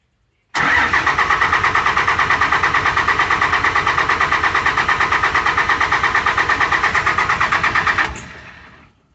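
An older diesel truck engine with an aftermarket fuel system cranks hard with rapid, even pulses for about eight seconds, then cuts off abruptly and fades. Loud and close, with no talking.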